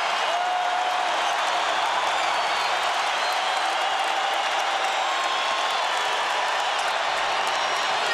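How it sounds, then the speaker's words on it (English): A basketball arena crowd roars and applauds continuously during a Syracuse–Georgetown college game, a broad, steady wash of cheering that fills the whole stretch at moderate loudness. "And this crowd is going bonkers"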